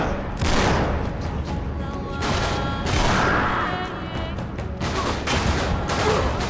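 Gunfire in the video game Uncharted 3 rattles in repeated loud bursts of rapid shots, with booming impacts and dense overlapping fire in a continuous, close firefight.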